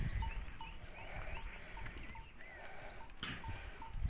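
Rams or young goats in a Turkish village bleat repeatedly at fairly close range, several short calls spaced through the clip over a low outdoor background, with no speech.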